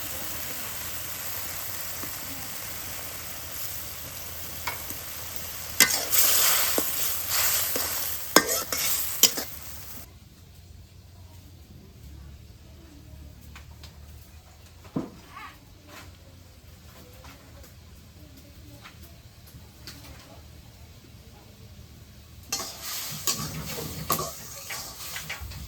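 Shrimp sautéing and being stirred in a pan for a village-style taro-leaf shrimp ghonto: steady close sizzle with scraping stir strokes, louder bursts of frying near the start and end, no voices.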